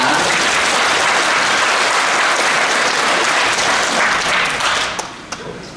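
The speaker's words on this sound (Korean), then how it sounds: "우리 크게 박수 한번 해줍시다." A church congregation applauds its choir at a Sunday service: loud, dense, steady applause that fills the room for about five seconds, then quickly tapers off with a few last claps.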